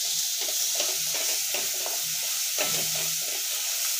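Chilli and coriander frying in oil for a spicy dried shrimp (javla) chutney, a bright steady sizzle with soft stirring taps, close and without talk.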